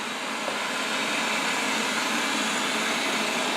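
A Wyze robot vacuum runs on its standard suction setting, giving a steady, continuous broadband whir with a motor hum that holds constant, close by and alone with no talk.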